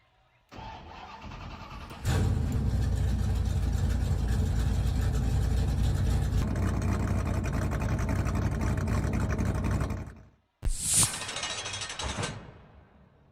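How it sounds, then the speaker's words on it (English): Several race car engines at a Phoenix race fire up together into a loud, sustained roar that holds steady for about eight seconds, cuts off briefly, then one engine revs sharply again before fading. "Start your engines!"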